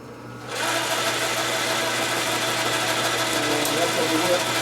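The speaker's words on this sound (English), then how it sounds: "Now you need to crank it by hand, or use power feed." A milling machine running on power feed while making a flywheel truing tool, a steady loud mechanical whir with a constant motor hum that starts abruptly and holds, up close with no voices.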